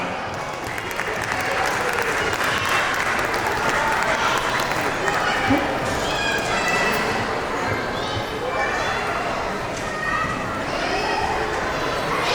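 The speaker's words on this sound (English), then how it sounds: "A big round of applause to all the fathers" Loud, sustained applause from a large audience at a school annual day awards event, dense clapping filling the whole stretch with crowd noise and some voices mixed in.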